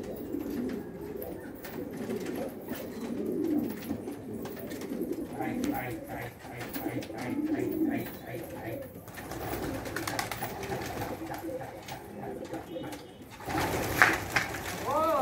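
Pigeons coo in low, throaty repeated calls close by, their soft rolling rhythm running steadily under people talking nearby.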